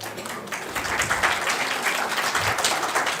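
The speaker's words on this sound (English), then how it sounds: "A little more energetic round of applause is what we need" Audience round of applause at a women's summit, a crowd clapping steadily, growing a little stronger after the first half second and continuing throughout.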